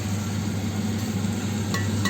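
Steady frying sizzle from a pan of Albanian-style liver, a continuous crackling hiss with occasional brief clinks, close and moderately loud.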